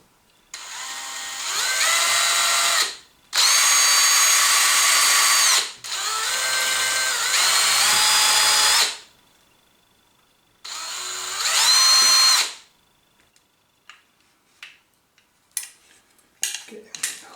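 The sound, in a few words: power drill drilling around a Xiaomi M365 scooter mudguard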